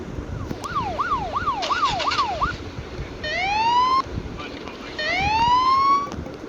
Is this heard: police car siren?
yes